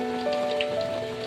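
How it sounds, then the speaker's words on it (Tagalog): Heavy rain pours steadily on surfaces near the coast, a dense continuous hiss with scattered droplet patter and a faint steady hum underneath, no voices. "ang lakas po ng ulan"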